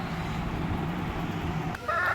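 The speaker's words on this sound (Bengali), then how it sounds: "আমি আপনাদেরকে দেখাচ্ছি 1 মিনিট, সবাইকেই দেখাবো কিভাবে খায় আমার মুরগিগুলো।" A chicken being fed beetle larvae gives one short cluck near the end, heard close over steady background noise.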